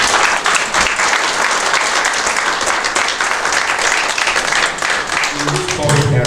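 Sustained applause and clapping from a crowd at a partnership unveiling ceremony in Accra, broad and steady throughout, with a voice beginning to speak over it near the end.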